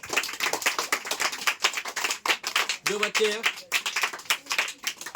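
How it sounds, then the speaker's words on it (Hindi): Village schoolchildren at a coaching centre prize event are clapped for: rapid, uneven bursts of hand claps from a small gathering, with a voice briefly heard amid them. "एक बार इन सभी बच्चों के लिए जोरदार तालियां"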